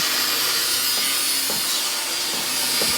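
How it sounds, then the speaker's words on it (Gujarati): An angle grinder runs steadily during truck body and cabin repair work in a workshop, a loud continuous high-pitched abrasive whine with faint knocks underneath and no talk. "થોડુંક અવાજમાં પ્રોબ્લેમ આવશે ગ્રાઇન્ડર ને બધું ચાલુ છે"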